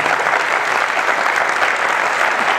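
Concert audience giving steady, dense applause for the sound engineer, loud and continuous with no voices.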